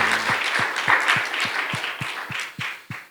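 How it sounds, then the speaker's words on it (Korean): A church congregation applauding together, with rhythmic unison claps at a steady beat over a dense wash of clapping. "박수로 할렐루야."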